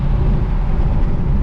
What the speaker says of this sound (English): excuse the wind noise